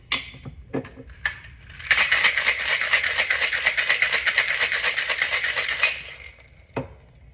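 A cocktail shaker filled with ice is shaken hard for a blood orange martini with orange bitters. It gives a loud, steady rattle of ice for about four seconds, with a few lighter clinks before and after.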